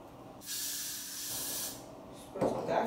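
An aerosol hairspray hisses in one steady burst of about a second and a half onto a highlighted wig with a wrapped ponytail piece, close and loud, followed by brief handling noise.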